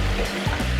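Cheetos dipped into boiling liquid nitrogen make a loud, continuous seething hiss and bubbling, like a fierce sizzle, for the whole short moment, with no voice.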